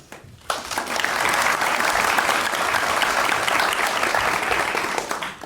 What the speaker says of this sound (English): please applaud with real gusto, okay?